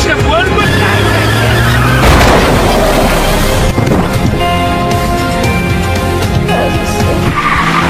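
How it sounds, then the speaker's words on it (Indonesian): A car skids with screeching tires and rams into another car, a loud crash near the two-second mark followed by continued tire squeal and engine roar in a dramatic chase scene, with music underneath. "Bang pun dengan cekatan langsung menabrak mobil itu dan berhasil menyelamatkan Yun Jin"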